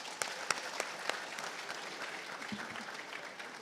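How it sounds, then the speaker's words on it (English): Audience at a Nigerian Society of Engineers conference technical session applauding the panelists, steady clapping from a crowd at moderate distance with a few sharper claps standing out early on, sustained evenly throughout. "Please, a round of applause for them."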